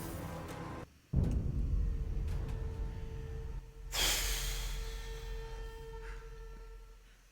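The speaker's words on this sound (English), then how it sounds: "I just got 2 people breathing randomly in my ear" Two people breathing in a player's ear through surround sound while playing Marvel's Avengers on PS5, close heavy breaths and a sharp snort-like inhale over a steady background hum, no words.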